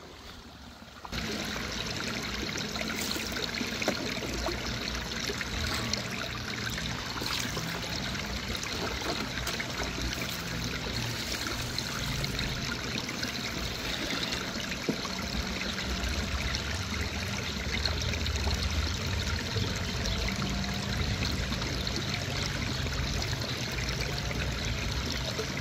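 A steady trickle and gurgle of water continues throughout as water is collected from a farm pond, soft and close with faint splashes.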